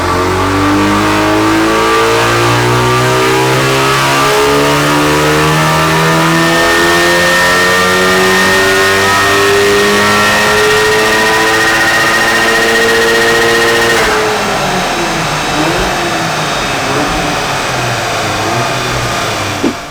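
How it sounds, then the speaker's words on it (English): A stage 3 tuned VW Golf R MK7.5 runs on a dyno, its engine revving hard and loud as the pitch climbs steadily through the gears, then drops off sharply near the end as it winds down. "And now we're ready to run it on the dyno and make some changes."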